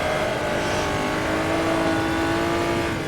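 A 1950s F1-style race car engine in the Automobilista racing game revs and climbs through the gears, a loud continuous rasping drone with rising pitch and a slight tire-squeal edge, with no voices over it.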